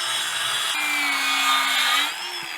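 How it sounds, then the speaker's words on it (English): Circular saw cutting a slight curve through wet wood for a picnic table, a steady high whining buzz with the motor pitch dipping slightly under load. "you can usually cut a slight curve with a circular saw"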